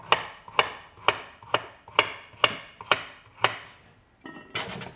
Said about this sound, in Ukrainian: І далі нарізаю ось такими хаотичними кусками.